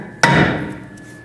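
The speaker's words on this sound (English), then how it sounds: "Now you can take a hammer and hit in these locations right here." A single loud, close metallic hammer blow rings out against the rear brake of a 2007 Honda CR-V, followed by a short decaying ring.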